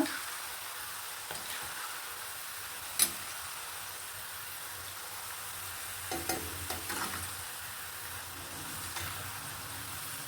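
Avarebele field beans frying in oil, giving a continuous close sizzle with a few louder stirring scrapes and one sharp knock of a utensil.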